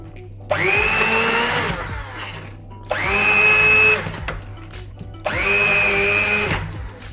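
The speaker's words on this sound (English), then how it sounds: "Handheld blender, is that what you call this? So I'm going to use this to puree the white beans." A handheld blender pureeing white beans whirs loudly in three separate bursts of about two seconds each, with short pauses between; close and unaccompanied by talk.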